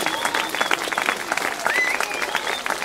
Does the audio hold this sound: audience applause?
yes